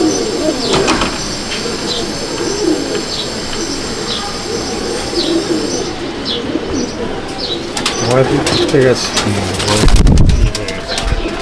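Tutu Madrasi (Chennai) pigeons coo steadily in a loft in Andul, Howrah, their rolling calls overlapping against a constant background din, with a brief spoken word and some handling noise near the end.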